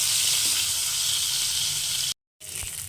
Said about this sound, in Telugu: నెక్స్ట్ వంకాయలు వేసి ఫ్రై చేయండి కొంచెం.